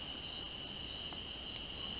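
Crickets trill in a steady, continuous high-pitched chorus, moderately loud and constant throughout, with no voices.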